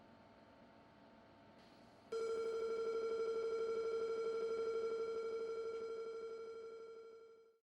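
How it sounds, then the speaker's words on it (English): A Tandy 1000 computer with a stuck key and full keyboard buffer, after corrosion and a dishwasher trip, emits a steady loud continuous electronic beep tone that starts abruptly, holds for several seconds, then fades and cuts off. "the machine started beeping non-stop, a telltale sign of a stuck key and a full keyboard buffer"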